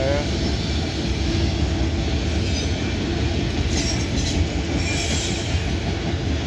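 Steel train wheels screech with flange squeal while rolling through a curve in the track, a sustained high shriek over a steady rumble of railcars passing close by.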